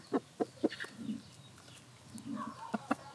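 An American Thai game hen gives three quick, close clucks, then softer low murmurs, and two more sharp clucks at the end.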